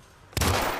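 Hip fire from a weapon in the Hitman video game cracks out as one sudden loud gunshot that cuts through a quiet room and fades into a short ringing tail.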